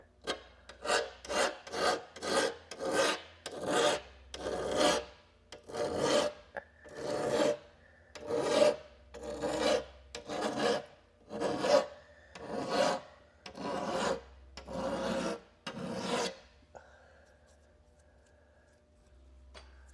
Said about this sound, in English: Squeegee it all out.